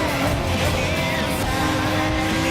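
A race car in the Gran Turismo Sport video game roars at speed, its engine loud and continuous while tires squeal through the run.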